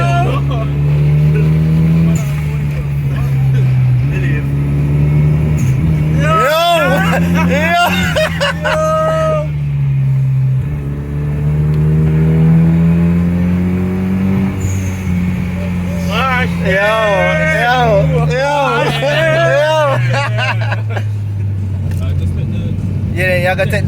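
A rally car's engine drones loudly and steadily throughout, rising and falling with revs as it drives, while people inside talk over it in bursts.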